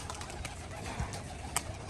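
A tiger-coloured pigeon and others in a home loft give a brief, low, soft coo against a constant hissy background, with a small faint click near the end.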